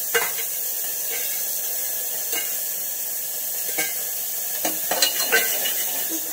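Mixed vegetables with cumin frying in a pan, a bright, even sizzle under intermittent metallic scrapes and knocks of a utensil stirring, growing busier toward the end. No speech.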